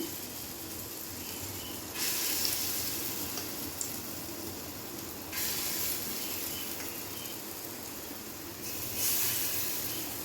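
Raw green banana fritters frying in hot white oil over a lowered flame give a steady close sizzle, swelling into louder bursts of crackle about every three seconds as more batter drops in; no one speaks.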